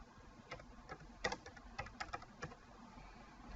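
Typing on a computer keyboard: a short burst of soft, irregular key clicks, faint and close, with a small flurry in the middle and no talking.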